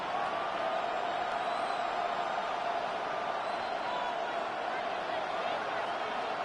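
Stadium crowd in a football video game, a steady wall of roaring noise with faint cheers, unbroken and loud throughout.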